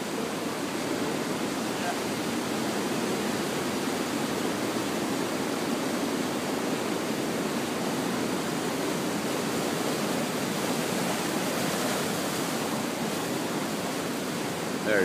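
Hurricane-swell ocean waves break in the surf, a steady, dense roar of crashing water filling the scene from start to finish, with no clear gaps between sets.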